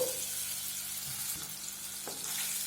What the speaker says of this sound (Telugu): ఇలా గార్లిక్ వేసుకున్న తర్వాత ఒక రెండు నిమిషాల పాటు బాగా ఫ్రై చేసుకున్నాము